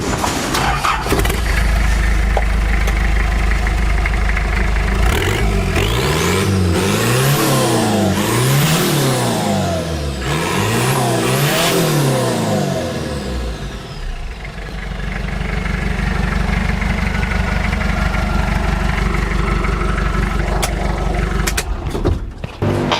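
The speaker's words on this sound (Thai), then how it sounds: "ผมขอให้พี่สตาร์ทฟังเสียงรถคันนี้หน่อย" A modified Datsun 620 engine cranks and catches, then revs sharply several times in quick bursts before settling into a rough, loud idle.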